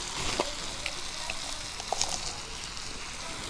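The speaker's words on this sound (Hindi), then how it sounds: "तो सब्ज़ी को हम इस कंचन के सहारे से चला देती हूँ।" Kachri (pehta) curry sizzling in a pan while a ladle stirs it, a soft continuous frying hiss with scattered light clinks and scrapes throughout.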